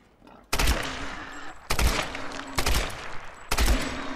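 Gunfire in the Tomb Raider video game, four loud, sharp bursts spaced about a second apart, each with a short ringing tail, close and prominent.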